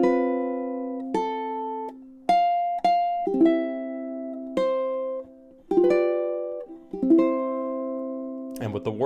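Solo ukulele plucking the Happy Birthday melody as an instrumental, single bright notes ringing out one at a time with decaying sustain, close and clear, a strummed flourish at the end.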